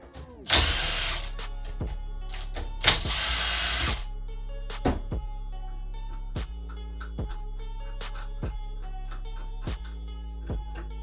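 Metal tools clank and ratchet while a reconditioned Nissan brake caliper is split into two pieces, opening with two loud bursts of rattling and then a run of sharp, evenly spaced clicks and taps, close up with no talking.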